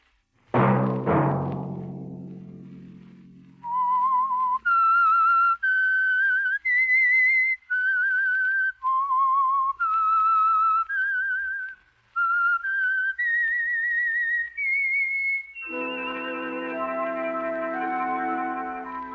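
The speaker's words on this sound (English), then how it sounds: "Let that whistle be your signal for the Signal Oil program, The Whistler" A human whistler performs the signature tune of the radio show The Whistler: a slow, eerie melody of clear sustained notes, alone and close, rising and falling through the phrase.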